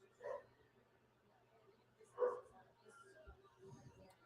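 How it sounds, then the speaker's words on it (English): A dog indoors gives a couple of quiet, short barks spaced a few seconds apart, with faint background noise between them. "What you woof woofing about?"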